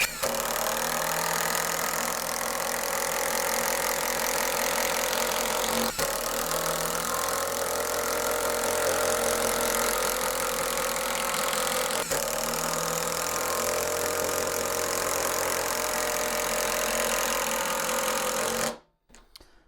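An Ingco cordless impact driver running at low speed while fastening screws, a continuous close mechanical whirring hammer-buzz lasting nearly the whole time, then stopping abruptly.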